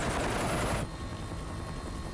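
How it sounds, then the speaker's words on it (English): Helicopter flying in a scene from The Walking Dead, season 3 episode 3, a loud broadband rotor roar that cuts off abruptly partway through, leaving a quieter steady engine-like hum. "it's a helicopter and stuff"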